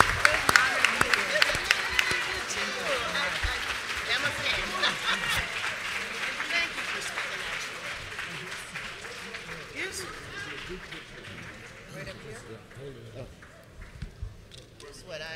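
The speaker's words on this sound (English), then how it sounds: "Let's give them a round of applause." Convention audience applauding a panel, loud clapping at first that gradually thins and fades, with voices talking over the dwindling claps.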